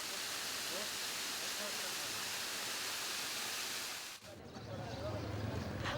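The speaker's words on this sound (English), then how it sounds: "Surrounded by lush forests, a waterfall almost showers down" A forest waterfall beside a Shiva temple showers down in a constant, dense rush of broadband water noise, steady and fairly distant, with a short dip near the end before the roar resumes.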